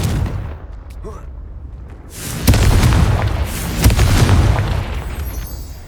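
A Confringo blasting spell bursts in Hogwarts Legacy, a loud booming explosion with crackling debris that swells midway and lingers in a rumbling tail, with a voice shouting briefly under it.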